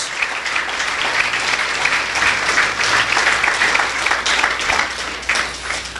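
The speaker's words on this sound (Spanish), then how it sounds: "¿Por qué no le damos un fuerte aplauso al Señor en esta mañana?" A church congregation applauding during a morning service, loud sustained clapping from many people that swells and stays dense for several seconds, with no speech over it.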